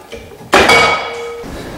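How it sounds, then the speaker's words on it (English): A rubber mallet strikes an axle brake drum during a Yukon Zip Locker install, giving a single loud, close blow followed by a brief metallic ring that fades. "Sometimes you need to use a mallet, rubber mallet, kind of help it along."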